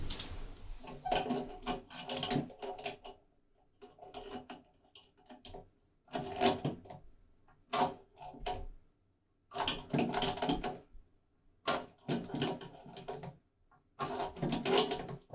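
Hand pliers tighten a plastic bidet T adapter fitting, making close bursts of clicking, ratcheting and creaking that start and stop irregularly with silent gaps between them.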